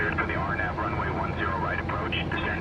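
Jet engines in Microsoft Flight Simulator 2024 throttle back during the climb after takeoff, giving a steady, dense cockpit drone that runs the whole time beneath a talking voice.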